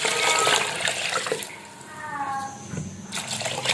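Water pours into a pot of rice for chicken pulao, a splashing, gurgling stream that rises and falls over a few seconds.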